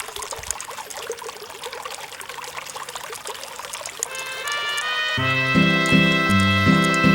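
A small trickle of water dribbles off a rock on a nature walk at Vasquez Rocks, a soft continuous patter close by, joined partway through by a sustained tonal drone.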